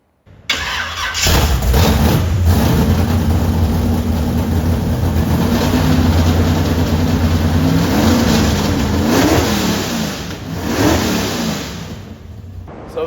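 A Chevrolet Nova's engine starts and revs loudly and close, roaring steadily before dipping and surging again near the end.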